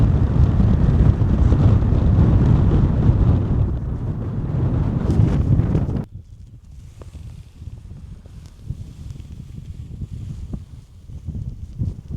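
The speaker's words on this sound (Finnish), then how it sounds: "On todella tuulista." Strong wind roars across an open fell and batters the microphone for about six seconds, then drops to a quieter, gusty rumble with scattered buffeting.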